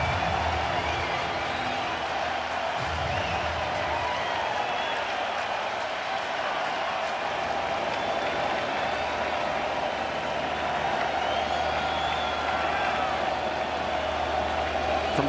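A baseball stadium crowd of more than 46,000 in a playoff game between Houston and Philadelphia gives sustained, distant-sounding applause and cheering, a broad roar that persists throughout.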